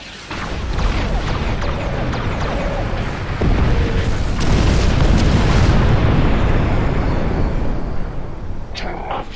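Bombing in Star Trek Online sets off heavy, booming explosions that build into a loud, continuous rumble lasting several seconds, with sharper blasts punching through.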